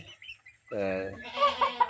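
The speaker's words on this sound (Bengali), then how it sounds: "এখানে 4টে মোরগ আছে, 4টে মুরগি আছে" Backyard chickens, a small flock of roosters and hens, give a drawn-out nearby cluck followed by softer clucking calls, fairly close and moderately loud.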